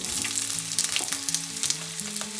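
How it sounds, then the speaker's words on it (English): Onion and peppers sizzle loudly in a hot pan for saffron and thyme chicken, a dense crackling fry with occasional stirring clicks close up and no talk. "we are going to add our onion and our peppers"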